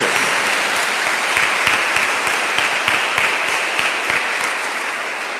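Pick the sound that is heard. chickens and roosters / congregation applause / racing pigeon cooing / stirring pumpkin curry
congregation applause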